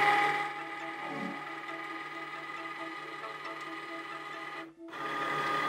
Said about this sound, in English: And now we'll start having the Cricut scan it.